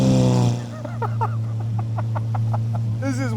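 A straight-piped Gintani Lamborghini SVJ V12 idles with a deep, steady drone, then a quick throttle blip rises sharply near the end, heard up close with faint voices around it.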